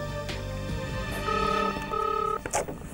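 A telephone redials the last dialed number as a quick run of keypad tones: short beeps, then two longer sustained tones, followed by faint clicks, heard close and clear without speech.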